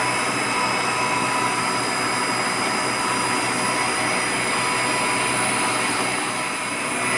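Reverse osmosis system pump motor running at a water treatment site, a loud, steady broadband whir with no breaks, close and constant throughout.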